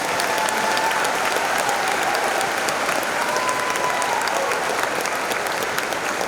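Teachers and staff applauding at a welcome assembly, a loud, dense, even roar of clapping that holds steady throughout with no talk.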